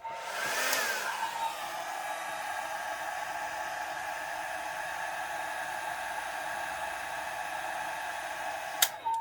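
A hair dryer blows steadily and close by to dry an alcohol ink flower painting, a continuous even rush of air that runs the whole time before a brief click at the end.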